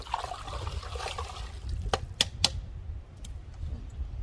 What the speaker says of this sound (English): Give it a good stir, get things all suspended.